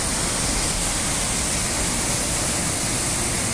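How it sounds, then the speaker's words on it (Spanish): The Salto de Quino waterfall in Araucanía roars as a loud, dense, unbroken rush of falling water that fills the whole clip at a constant level, with no voices. "de la cascada del agua"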